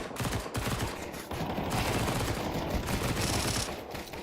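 Glock pistols firing in a competitive esports match, heard as dense continuous rapid gunfire with crackling overlapping shots that stay loud throughout, with no voices.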